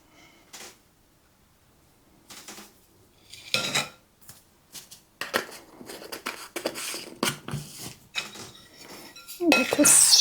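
Metal utensils scrape and clink against a sheet pan of chicken, potatoes, carrots and green beans being stirred in a home kitchen, with scattered clatters growing louder and busier toward the end and no talk.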